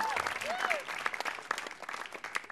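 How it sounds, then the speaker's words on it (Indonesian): Brief audience applause for a comedian at a stand-up comedy open mic, a crowd clapping steadily at moderate volume while an announcer's voice sounds over it. "Kita beri tepuk tangan yang meriah untuk Radit Fan."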